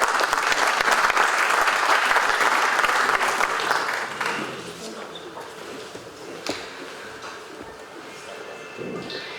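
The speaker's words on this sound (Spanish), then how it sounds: "Con un fuerte aplauso, por favor." Loud applause from an audience at a public workshop on a pension bill fills the first few seconds, then fades into scattered clapping and room noise with some murmuring.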